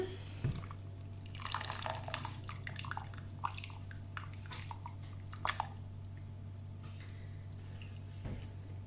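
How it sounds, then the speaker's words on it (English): Hot water dripping and splattering off freshly blanched food being shaken in a home kitchen: scattered irregular drips and wet squishes over a steady low hum, fairly close and quiet. "we're just going to get as much of this hot water shaken off as possible"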